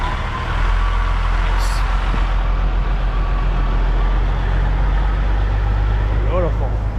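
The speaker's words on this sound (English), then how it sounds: "That nice old B model Kenworth right there." An old B model Kenworth truck idles nearby on a freezing lot at a truck stop fuel island, its steady low engine rumble continuous throughout, with brief higher squeals and clanks mixed in.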